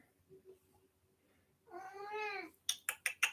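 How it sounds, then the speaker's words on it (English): A cat gives one drawn-out meow, followed quickly by four short sharp sounds in a row, nearby and otherwise quiet. "Y'all hear the cat?"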